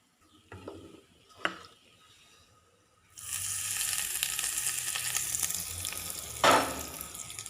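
A few soft clicks and taps in near silence give way to a sudden sizzle as a hot curry-leaf tempering is poured into coconut chutney. The hiss holds steady, then flares briefly in a louder burst before easing.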